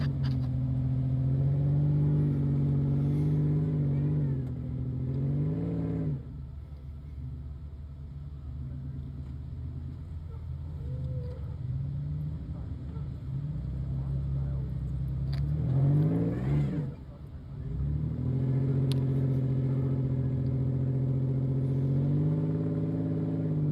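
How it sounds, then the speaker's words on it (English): An off-road buggy's engine revs and rumbles near at hand as it climbs a rock obstacle. The steady roar swells, dips around five and sixteen seconds, then picks back up with a voice talking over it. "This buggy's going up."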